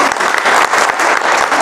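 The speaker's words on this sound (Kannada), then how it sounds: "ಮತ್ತೆ ಚಪ್ಪಾಳೆ ಹೊಡೀರಿ" Audience applause from a seated crowd at a motivational talk, dense continuous clapping filling the whole moment, loud and close with no speech over it.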